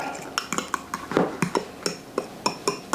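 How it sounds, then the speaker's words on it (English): A utensil stirs keto cinnamon roll batter made with almond flour in a bowl, giving a quick series of sharp clinks and scrapes against the dish in an uneven rhythm, close and fairly loud. "Give that a little stir."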